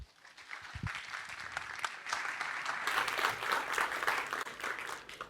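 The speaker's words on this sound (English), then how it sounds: "Please give a huge round of applause." Sustained audience applause welcoming a tech leaders panel at a conference, dense clapping that swells and holds steady, a few louder individual claps early on, heard alone without talk.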